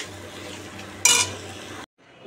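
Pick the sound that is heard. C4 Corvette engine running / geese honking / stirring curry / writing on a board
stirring curry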